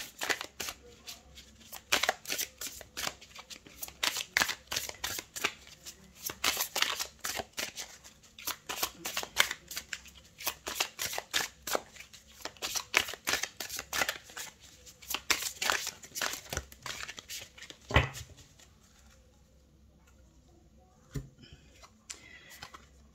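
Oracle cards shuffled by hand in a steady run of crisp, rapid riffling flicks, close and fairly quiet, ending with a couple of soft taps before near silence.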